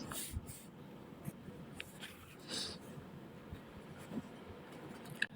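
Pen scratching across paper while writing an answer for a Bengali language exam paper, faint, soft strokes over a quiet hiss of background noise.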